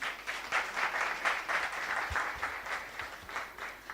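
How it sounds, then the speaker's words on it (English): Sustained applause from an audience at a British Council Creatives Garage livestream event, honouring the sign language interpreter, dense even clapping at moderate distance lasting the whole stretch. "I'd also like us to give a round of applause to the sign language interpreter."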